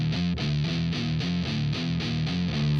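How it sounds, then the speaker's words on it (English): A heavily distorted electric guitar in drop D tuning plays a chugging riff of power chords, loud, dense and rhythmic, with repeated palm-muted hits throughout. "we're going to put a bit of distortion on it."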